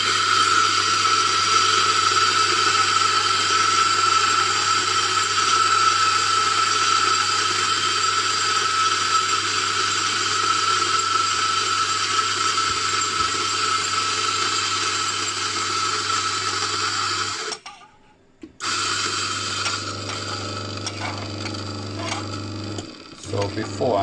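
A Mazzer Mini coffee grinder fitted with replacement 64mm burrs grinds beans at a finer setting, a steady loud whirring drone that cuts off briefly and then resumes, with talk present.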